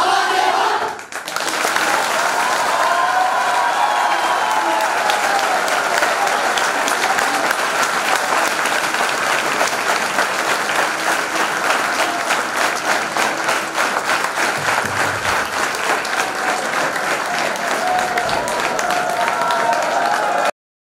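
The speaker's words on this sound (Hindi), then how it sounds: "आप लोगों की तालियों के लिए धन्यवाद।" An audience applauds after a theatrical presentation on legal literacy and women's empowerment, loud sustained clapping from a large crowd that runs steadily for about twenty seconds.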